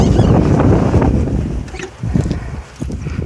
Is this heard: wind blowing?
yes